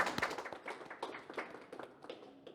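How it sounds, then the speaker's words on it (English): A small group gives a short round of applause, with scattered, fairly faint claps that patter unevenly and then die away. "Let's give ourselves a round of applause."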